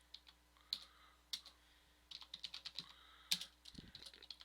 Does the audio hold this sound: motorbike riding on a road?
no